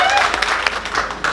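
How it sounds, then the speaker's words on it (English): Audience applause at the ribbon cutting for the new Keller Senior Activities Center, honoring the Parks and Rec team: a short burst of steady clapping with a few sharper claps, with voices murmuring underneath. "So we could just give them a round of applause."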